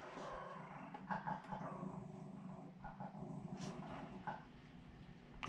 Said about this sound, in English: Dogs aren't happy.